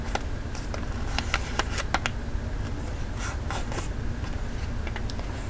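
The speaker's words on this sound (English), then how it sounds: "So just fold it up into that point and crease it in." Paper is folded and creased for an origami fox, giving soft close rustles, scrapes and a few crisp crinkling taps over a quiet steady background hum.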